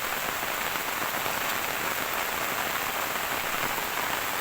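Steady rain falls on a rural farm field, a dense, even hiss of drops spread across the whole clip, close and constant with no voices.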